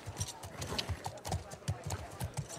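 Rhythmic hoofbeats clip-clop steadily at a brisk pace in the video game The Last of Us Part II, with a soft whinny mixed in and a voice talking over them.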